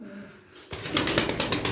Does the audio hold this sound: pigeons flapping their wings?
yes